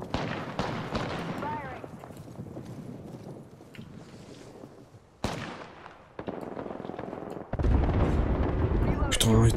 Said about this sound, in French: il y a trop d'explosions, je vois rien